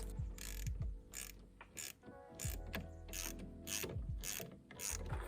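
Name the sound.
tightening bolts with a 1/2-inch wrench on tractor valve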